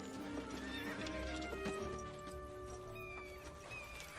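Several horses whinny loudly and close while hooves clip-clop steadily underneath, with a dense rumble of movement throughout and faint voices in the mix.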